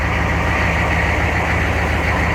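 A TurboWeasel 6.5 turbo diesel truck engine idles steadily after a cold start, a loud, close, continuous low rumble with a regular mechanical knock and no voices.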